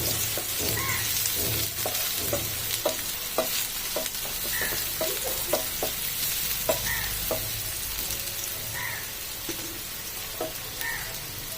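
Chopped onions fry over a medium flame in a pan, giving a constant moderate sizzle, with repeated light clicks and scrapes from stirring scattered through it and no talking.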